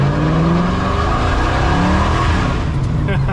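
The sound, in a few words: Ford F100 with Crown Vic engine swap accelerating from standstill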